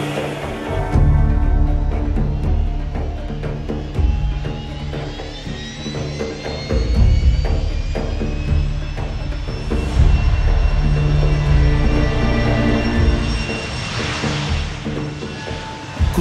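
An Akıncı unmanned aerial vehicle takes off, its turboprop engine roaring loud and close with a steady whine that rises in pitch and holds as it climbs, with no talk over it.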